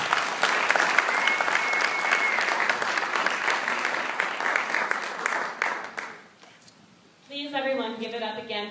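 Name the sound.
audience applause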